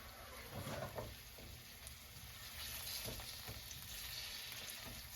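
About a tablespoon of butter sizzles quietly in a pan, a faint, even frying hiss with a few soft crackles, heard alone at low level.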